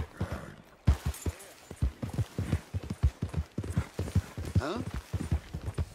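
Horse hooves clip-clop in a steady, fairly close rhythm in the Red Dead Redemption 2 video game, with a voice briefly heard over the galloping.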